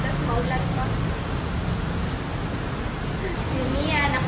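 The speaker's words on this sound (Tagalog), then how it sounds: "Grabe ang traffic, tas maulan pa." Heavy road traffic in the rain near SM Mega Mall: a dense, steady roar of engines and wet road noise fills the whole stretch, continuous and close, with no clear voices.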